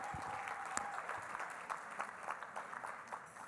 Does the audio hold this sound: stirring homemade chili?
no